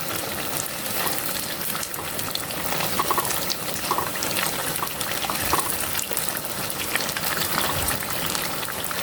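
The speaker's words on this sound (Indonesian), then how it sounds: "Goreng dalam minyak panas, api sedang cenderung kecil." Crackers fry in hot oil over a medium-low flame, giving a dense, steady sizzle and crackle that fills the whole stretch at close range with no talking.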